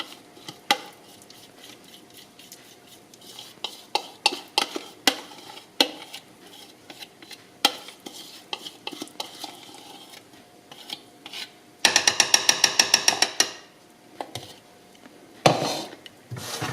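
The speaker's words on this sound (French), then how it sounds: "Et on mélange bien." A spoon scrapes and rasps in a bowl while melted chocolate is mixed with toasted flaked almonds, giving irregular scraping strokes with a fast rattling burst near the end; no talk.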